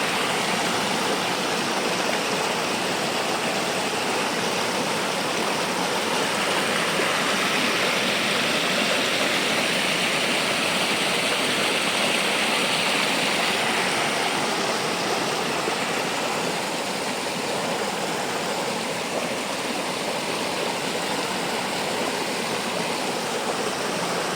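Water from a stream flows steadily into a newly built third intake tank, a constant, close rushing wash with no break or talk across the whole stretch.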